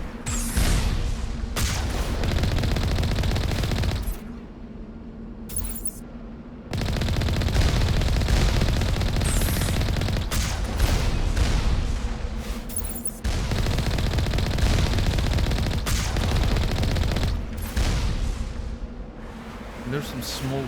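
Defensive turrets fire in the Mass Effect video game on the icy world of Noveria, with loud sustained bursts of automatic gunfire and booming impacts that pause briefly and resume several times over a continuous battle din.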